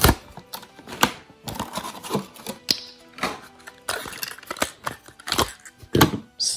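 Plastic and cardboard packaging torn open by hand to free a Disney Cars Mater toy with cone teeth: close, crackly bursts of ripping and crinkling in quick irregular spurts, with no talking.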